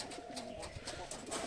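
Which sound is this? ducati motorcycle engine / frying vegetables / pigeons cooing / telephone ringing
pigeons cooing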